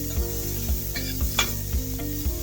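Chicken frying in a pan with plenty of curry leaves added for a Salem hotel-style chicken starter, sizzling steadily and loudly with five or six regular stirring scrapes and no talking.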